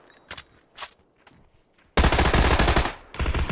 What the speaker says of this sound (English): He's got the Tommy gun. Full auto.